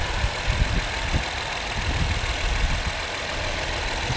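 A noisy engine on a 2019 Jeep Wrangler runs close by, a steady dense roar with uneven low knocks and rumbles underneath.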